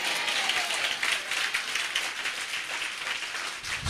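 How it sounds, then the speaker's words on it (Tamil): Congregation applause during a Tamil Christian sermon, a steady wash of clapping at moderate distance with no talking over it. "விசுவாசமான ஒரு கைத்தட்டு"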